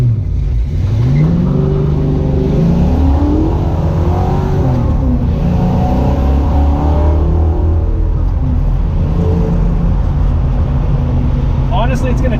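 A 1968 Ford Mustang with a fuel-injected 5.0 302 engine swap drives along, its engine rising and falling in pitch through acceleration and gear changes, loud and close inside the car. A voice talks over it.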